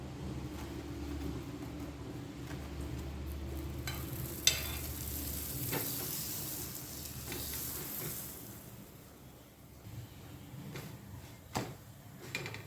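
A lachha paratha roasting in butter on a pan, giving a quiet, steady sizzle with a few soft clicks and taps of a utensil, and a sharper knock partway through.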